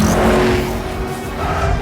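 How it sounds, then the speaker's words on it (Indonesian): Loud, close engines snarl and rev in a car chase from the film Ant-Man and the Wasp, a dense, continuous roar with tire noise filling the whole brief moment. "Louis kabur menggunakan mobil yang baru dan anak buah Sonny masih terus mengejarnya"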